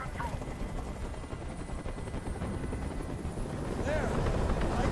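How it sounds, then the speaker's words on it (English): A helicopter hovers overhead during a hostage standoff in the video game Detroit: Become Human, its steady broadband rotor rumble continuous and fairly loud throughout, with a voice speaking over it near the end. "Tell that helicopter to get out of here."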